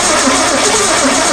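Long-dormant 1966 Ford Mustang barn find being cranked after 40 years with fuel spraying: a loud, close, continuous mechanical roar and whir holds steady throughout, with no talking.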